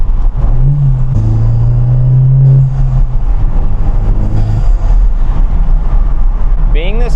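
A Volkswagen GTI with 86,000 miles hums along the road, a low steady exhaust drone droning under road rumble while a voice talks over it throughout.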